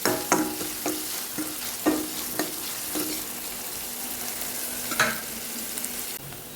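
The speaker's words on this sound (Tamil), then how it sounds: "இப்போ வெங்காயம் வந்துட்டு நல்லா வதங்கட்டும்" Onions sautéing in oil for a Tamil-style sambar, a steady close sizzle broken by several sharp stir-and-scrape clatters of a spoon against the pan, with no talking.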